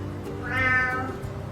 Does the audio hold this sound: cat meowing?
yes